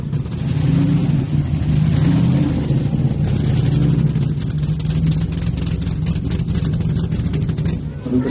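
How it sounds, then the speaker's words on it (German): A supercharged hot rod engine with Holley carburetors, built on an original 1930 steel body, runs loud and close at a steady rumbling idle with slight revving throughout. "Das Besondere an dem Motor ist dieser Kompressorlader hier."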